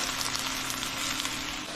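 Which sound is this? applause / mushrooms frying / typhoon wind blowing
mushrooms frying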